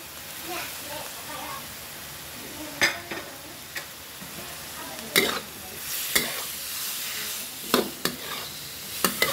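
Bamboo shoots stir-fried in bubbling oil, a steady sizzle broken by sharp scraping stirs and clanks of the utensil against the pan, close and fairly loud throughout.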